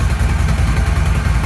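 A motorcycle with its stock exhaust idles steadily nearby, giving a continuous low, even rumble with no talking.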